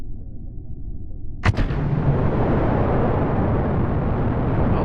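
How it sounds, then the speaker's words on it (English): A rocket lifts off in a space video game, a sudden loud blast erupting after a low hum and settling into a steady, full roaring rumble that continues to the end. "Let's get our rocket underway, Burbas."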